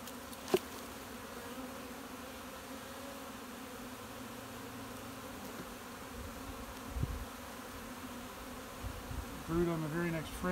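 A dense, steady hum of many honey bees buzzing close by in an opened hive as frames are pulled, continuous throughout, with a few faint knocks and a brief murmur near the end.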